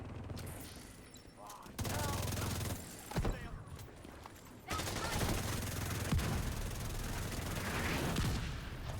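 Mortar shells from Division 2 burst in heavy, loud booms several times in quick succession, with crackling gunfire and rumbling debris filling the gaps between blasts.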